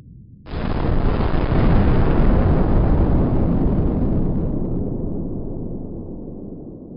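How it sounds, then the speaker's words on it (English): A huge refinery explosion in Philadelphia bursts in suddenly after a low rumble, then a broad, loud roar that slowly fades away over several seconds. "a significant explosion rocked a refinery in Philadelphia, unleashing massive flames and billowing plumes of smoke"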